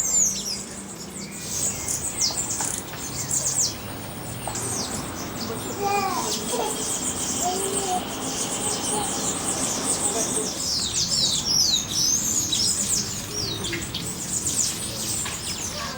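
Many small birds, including various hummingbird species, chirp and twitter continuously at moderate distance in a small park near Iguazu Falls, with faint voices in the background.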